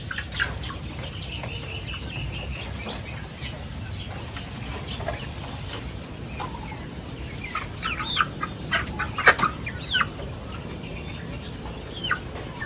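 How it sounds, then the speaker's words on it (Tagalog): Sick chickens cluck and squawk intermittently over a steady noisy background, with a few louder calls bunching together near the end. "kasi yung ating mga alagang manok po"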